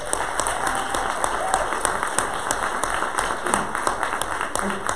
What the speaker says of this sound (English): So we just give them a round of applause.